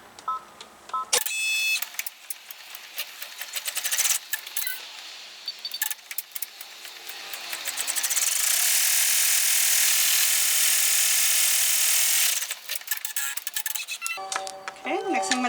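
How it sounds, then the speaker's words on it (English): An embroidery machine sews a placement stitch for an in-the-hoop reusable straw snap case, starting and stopping in short ticking bursts, then running a steady, buzzing stretch of stitching at moderate volume. "put it in the machine, and we're going to stitch out first our placement stitch"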